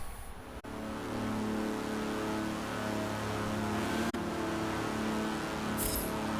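A steady engine drone from an Aston Martin DBR1 classic race car in the Forza racing game, holding a sustained rumbling tone throughout with a brief dropout near the middle, fairly loud and with no talking.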